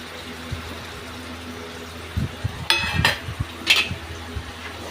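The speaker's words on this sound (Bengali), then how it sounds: "আলুটা দিয়ে আবার একটু কষাবো" Potatoes tossed into a pan of masala with a little water and stir-fried: a quiet simmering background, then clattering spoon-on-pan knocks and scraping in a short burst of close stirring.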